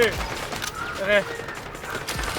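Rapid bursts of gunfire in the Delta Force shooter game, tangled with clatter and mechanical noises, running steadily under excited voices.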